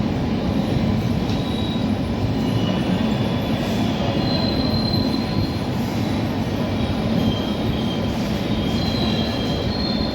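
The Hutatma Express rolls out of Daund junction, a loud continuous rumble of wheels on track with intermittent metallic squeals, heard from on board with no talking.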